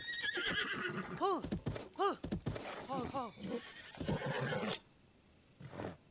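A horse in Zelda: Tears of the Kingdom whinnies several times in quick, rising calls over a steady clip-clop of hooves, then the sound drops away near the end.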